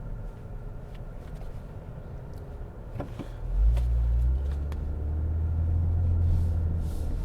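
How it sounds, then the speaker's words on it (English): A 2020 Toyota Camry TRD with a catback exhaust drones low while driving, the rumble swelling midway and holding steady, with faint road and cabin noise around it. "that catback exhaust sounds pretty good as well."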